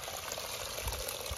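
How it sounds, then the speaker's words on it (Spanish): Foamy water is poured out of a container of curing olives, a continuous splashing gush that runs steadily throughout. "aquí les está tirando el agua."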